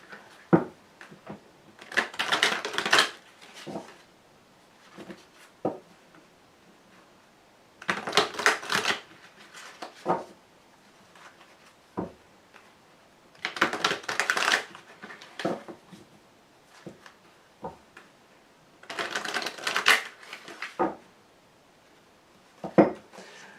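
Wicca tarot cards are shuffled in four or five loud bursts of crisp riffling and slapping, separated by short pauses with faint handling sounds, close to the listener and with no speech.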